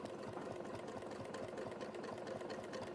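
A sewing machine stitches a circle around a template, its needle running in a fast, steady mechanical patter at moderate loudness with no talking.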